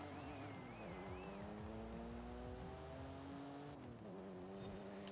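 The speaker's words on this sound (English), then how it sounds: "It's turbocharged V6." A turbocharged V6 Buick in Forza Horizon 5 drones steadily under load, engine pitch climbing through the gears with a brief shift dip, loud and continuous with a faint whistle over the top.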